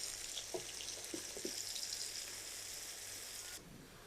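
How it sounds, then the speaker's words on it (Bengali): Onions sizzle in hot oil as they fry down toward crispy beresta, a faint, even hiss with a few soft clicks near the start, then a sudden drop in the bright sizzle toward the end. "বেশ কিছুটা পেঁয়াজ দিয়ে দিচ্ছি। পেঁয়াজটাকে আমি বেরেস্তা করে নিব।"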